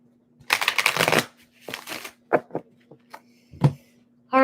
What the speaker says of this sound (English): I want to shuffle these pretty good here.